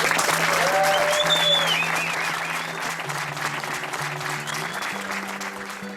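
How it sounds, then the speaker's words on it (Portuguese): An audience claps steadily in a sustained round of applause, gradually tapering slightly, with a faint musical tone running underneath. "uma salva de palmas para o André Domingos!"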